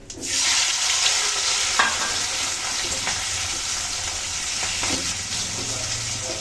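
Boiled potatoes dropped into hot oil with whole cumin seeds, dried red chillies and bay leaf, giving a loud, continuous, close sizzle that holds steady throughout, with a few faint stirring scrapes and no talk.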